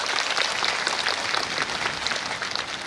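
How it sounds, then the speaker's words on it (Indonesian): Dense, steady applause from a large crowd at a live religious talk in Padangsidimpuan, a continuous wash of many hands clapping with no gaps, heard from within the audience. "Tepuk tangan untuk Indonesia."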